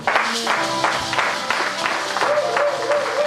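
Applause from a church congregation during a prophetic worship service, sustained, loud and close, with crowd voices mixed throughout.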